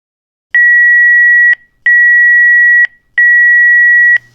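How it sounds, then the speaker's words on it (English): Three long electronic beeps from an electric pressure cooker finishing octopus, each about a second, evenly spaced with short silences between, loud and clear with no other sound. "So the machine beeped, we are done."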